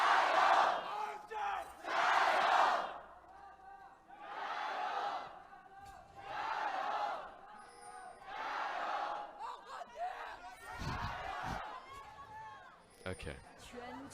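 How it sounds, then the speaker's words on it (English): A Chinese esports arena crowd at an LPL League of Legends match between FunPlusPhoenix and Royal Never Give Up roars in repeated rhythmic chanting bursts, loud and swelling, with a commentator talking over it. "the Chinese crowd have absolutely gone bonkers over the past couple of weeks"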